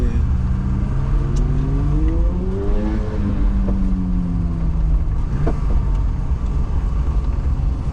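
A BMW E12 engine revs up again as the car accelerates, its pitch climbing and then settling into a loud, steady drone.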